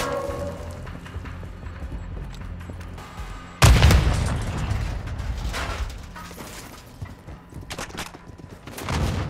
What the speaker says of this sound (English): Enemy personnel at the hardpoint. Throwing grenade!